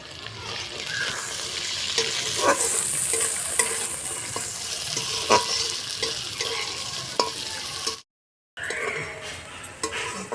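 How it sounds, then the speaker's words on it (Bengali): Carrots and peas sizzle in a pan while a spatula stirs them, making repeated scraping clicks over a constant frying hiss. The sound drops out briefly near the end, then returns. "গাজরের মটরশুটিটা ভাজা হয়ে গেলে এবার নামিয়ে দেবো"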